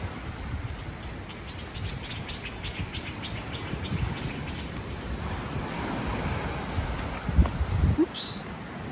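Sea waves wash steadily onto the shore at Koh Samet, a constant broad surf roar with a faint chirp of birds above it and a few brief clatters near the end.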